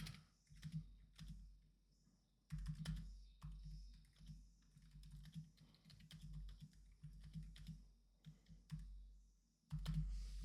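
Quiet typing on a computer keyboard, with irregular bursts of key clicks and short pauses over about ten seconds, close by with no talk.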